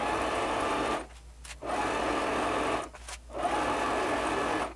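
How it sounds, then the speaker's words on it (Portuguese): A sewing machine sews a wide basting stitch along the top edge of tulle for a lingerie skirt. Three loud, close bursts of rapid stitching are separated by two short pauses. "Vou passar agora aqui uma costura na parte superior do meu tule com um ponto bem larguinho."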